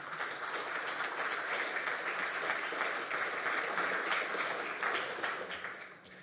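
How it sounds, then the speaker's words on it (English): A conference audience applauds after a talk, a dense, even wash of many hands clapping that holds steady for several seconds and then begins to taper off at the end. "So please give Maxime a nice applause for the talk."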